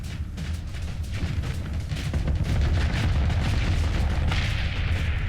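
Torpedo blasts in the space combat game Starsector roll out as a dense, continuous low rumble of booming explosions, loud and sustained throughout, with no gaps between impacts.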